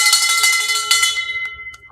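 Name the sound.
bell rung to welcome a podcast guest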